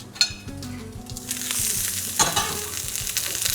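Sauce sizzles in a hot pan while it is stirred. A steady frying hiss runs under soft scraping strokes, close up, with no voices.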